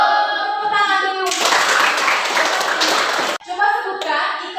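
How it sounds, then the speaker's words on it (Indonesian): Classroom of schoolchildren breaking into a burst of hand clapping for about two seconds, bracketed by a voice talking before and after. "Tepuk tangan dulu."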